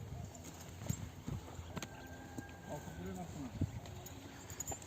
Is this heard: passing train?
no